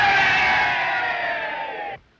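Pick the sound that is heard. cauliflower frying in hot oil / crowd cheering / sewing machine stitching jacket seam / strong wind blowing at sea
crowd cheering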